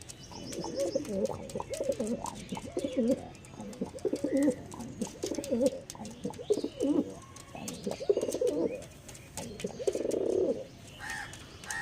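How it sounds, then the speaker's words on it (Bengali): Large breeder pigeons cooing in repeated soft, throaty rolling phrases, close by and fairly quiet, with several birds overlapping in an uneven rhythm and no one speaking. "বড় ব্রিডার পায়রা"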